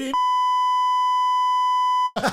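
A single steady electronic censor beep holds for about two seconds, cutting over the speech, which resumes right after.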